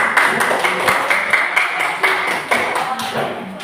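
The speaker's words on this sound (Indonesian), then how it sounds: "Tepuk tangan dulu biar kawannya semangat" A classroom of students claps hands in a loose, uneven patter of quick taps, close and fairly loud, slowly thinning toward the end.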